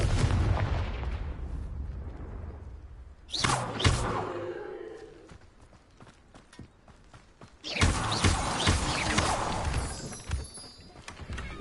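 Confringo fire spell blasts in the Hogwarts Legacy game, with sharp explosive bursts around four and eight seconds and ongoing rumbling, crackling combat noise between them.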